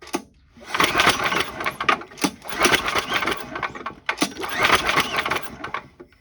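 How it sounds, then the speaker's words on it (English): An old, long-neglected snowblower engine is turned over by hand with its recoil starter cord, giving three loud, close bursts of rough mechanical whirring and chattering without starting. "I'm now going to pull the engine over a couple times"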